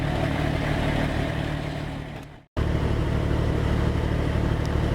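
A Hummer H1 drives off-road in Colorado, its engine running loud and close with a steady broadband rumble. The sound cuts out abruptly for a moment partway through, then resumes at the same level.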